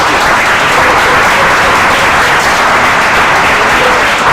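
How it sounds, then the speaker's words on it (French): A large audience applauds a man at a Togolese certificate ceremony for newly trained participants, a loud, thick, unbroken roar of clapping filling the whole span. "s'il vous plaît, même tout le monde est jusqu'à ici applaudit ce monsieur"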